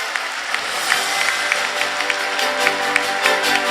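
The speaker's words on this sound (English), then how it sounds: "A round of applause, please." Audience applause at a national peace convention plenary session, a steady, moderately loud patter of many hands clapping at an even level throughout, with a few sharper individual claps standing out.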